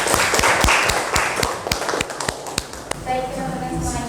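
A classroom audience claps for a presenting group, a short burst of sparse, distinct hand claps at close range that tapers off after a few seconds, with a voice talking over it.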